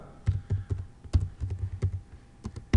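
Keys clack on a computer keyboard in short irregular bursts, close and fairly quiet, with small pauses between the taps.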